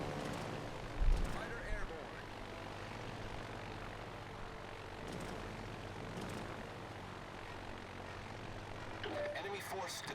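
Propeller aircraft engines drone from fighter planes in the naval combat game World of Warships Legends, a steady hum with a brief louder thump early on and light interface sounds near the end.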